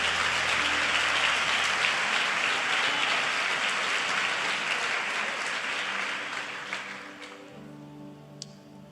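A church congregation claps steadily in a dense, even wash that gradually fades out over several seconds, ending in near quiet.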